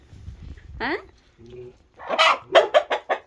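Hens cluck in short bursts, a few separate calls and then a quick run of loud clucks close by.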